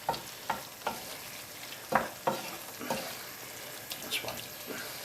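A spoon stirs a lamb curry mixture with sugar and tomatoes in a pot, giving about a dozen wet scraping strokes at an uneven rhythm, close and moderately loud, with no talking.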